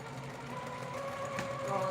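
Domestic sewing machine stitching overall front bibs and facing, a steady mechanical whir with faint rhythmic ticking that continues throughout the short stretch, fairly quiet and close.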